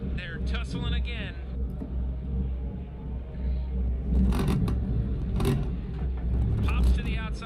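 Porsche Cup race cars in the Automobilista 2 sim racing game, engines droning and shifting in a close pack, with gear-change crackles, heard under continuous commentary.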